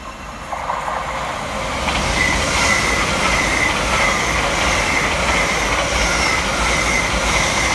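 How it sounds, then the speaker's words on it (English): An LNER Class 801 train rushes through Hornsey railway station, a rising rumble with clattering wheels and a high squeal that stays loud and close for the whole pass. "Next flying around the corner for LNER is 801-220, working 1 Delta 29 from London King's Cross through to Leeds."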